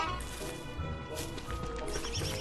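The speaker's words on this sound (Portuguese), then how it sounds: "Vou ouvir passos." Footsteps in the video game Don't Starve as a character crosses a graveyard, a busy, continuous patter of clopping steps mixed with game ambience, fairly close and steady.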